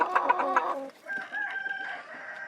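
Nearby chickens, including a Turken hen, cluck in a quick rhythmic series, followed by a drawn-out crow-like call, close and clear.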